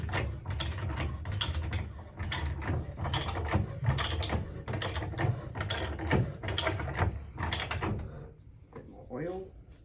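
Threading machine cutting threads into low carbon steel, with repeated clicking, ratcheting mechanical strokes and scraping bursts at close range, irregular in rhythm, with faint voices in the background.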